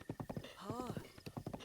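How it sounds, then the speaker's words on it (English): Horse hooves clip-clop in a quick, even rhythm in Zelda Breath of the Wild, with a short whinny in the middle, soft and close. "This horse is likely going to be replacing Haunts for a good period"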